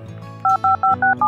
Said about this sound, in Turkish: Ben en iyisi Leo'yu arayayım